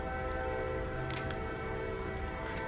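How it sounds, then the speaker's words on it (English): A train rumbles by close outside a home craft workspace, a steady low drone with sustained horn-like tones and a few brief higher bursts, continuous throughout with no talking. "I'm sorry if y'all can hear the train."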